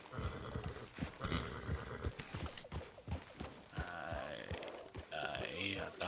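Horse in Red Dead Redemption 2 being tied up, with clip-clopping hooves, shuffling movement and breathy snorts heard under someone talking.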